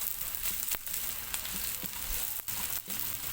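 Onion and garlic sautéing in hot cooking oil gives a steady, close sizzle and crackle, with a few sharp clanks from a utensil stirring the pan and no voices.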